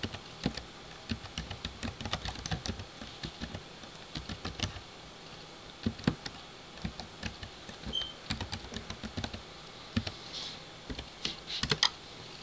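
Irregular typing on a computer keyboard, light key clicks in uneven bursts and pauses, moderately close and quiet, with no talk.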